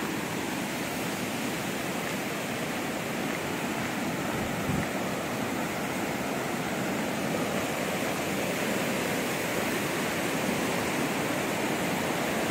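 A monsoon river in the Konkan countryside rushes steadily, a dense, unbroken roar of flowing water that stays close and even throughout, with no voices.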